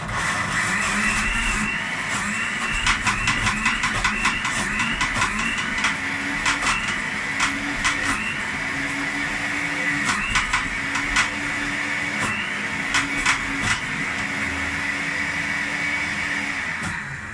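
A food processor grinding nuts whirs steadily, loud and continuous, with rattling chops and clicks as the hard pieces get ground for a long stretch.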